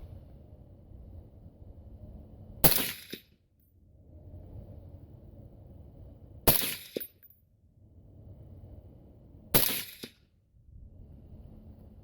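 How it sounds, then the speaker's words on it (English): Three suppressed rifle shots from a KelTec RFB fitted with a YHM Phantom 2 suppressor, each a sharp, loud crack spaced a few seconds apart over a quiet outdoor rumble. "here's 3 rounds suppressed"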